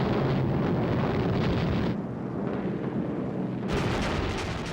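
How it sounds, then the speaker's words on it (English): Heavy, sustained rumbling roar of explosions as a raid of nearly 450 Lancaster bombers drops its loads on a German city in the Second World War, loud and continuous with booming surges and no voices. "a force of nearly 450 Lancaster bombers swept over the city, dropping their loads"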